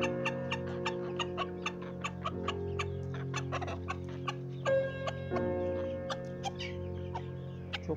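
Sultan chickens clucking close by in a series of short clucks over a steady low hum, with no voices.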